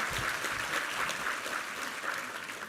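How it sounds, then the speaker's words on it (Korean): A church congregation at a Sunday service applauds in a dense, even wash of clapping that holds steady at moderate volume from start to finish. "우리 하나님께 감사와 영광의 박수 올려드리겠습니다"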